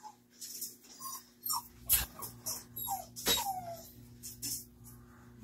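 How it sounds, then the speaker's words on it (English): Dogs whine and whimper indoors in a series of short, high, rising cries with a few yips, fairly close and moderately loud, spread across the stretch with brief pauses between them. "take them out so that they're not whining on camera"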